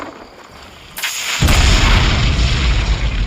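A candle packed with gunpowder goes off in a deep, heavy blast that rumbles on and fills the space, coming after a quiet moment and a sharp crack.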